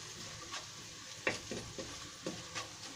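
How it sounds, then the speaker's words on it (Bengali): Chili powder is stirred into a tilapia and tomato curry in a hot pan, with soft sizzling under a few sharp spoon scrapes and taps against the pan. "দিয়ে এবার মিক্স করে নিচ্ছি"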